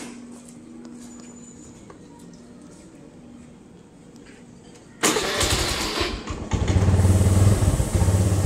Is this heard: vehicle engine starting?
yes